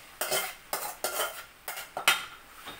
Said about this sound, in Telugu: మనం నెక్స్ట్ మనం కలిపి పెట్టుకున్నాం కదా మటన్, వేసేద్దాం.